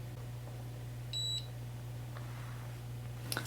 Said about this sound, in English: Our ink machine has turned green and beeped on setting number 3, so it's ready to go.